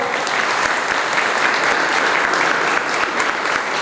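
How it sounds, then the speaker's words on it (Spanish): A school audience at a book presentation gives loud, sustained applause, a thick steady roar of many hands clapping at once that holds at an even level from start to finish. "Un fuerte aplauso, por favor"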